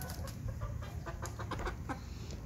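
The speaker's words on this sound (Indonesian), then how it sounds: "Ini ayam hitam-hitam nih," Chickens, including black long-tailed hens, cluck and call in a farmyard where a cat is eating, with several short calls scattered over steady outdoor background noise and no talk.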